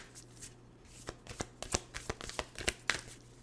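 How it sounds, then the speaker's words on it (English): Tarot cards are shuffled by hand close up, a quiet run of quick riffling flicks and soft taps that grows busier toward the end, with a faint steady hum underneath. "I'm hearing shuffle."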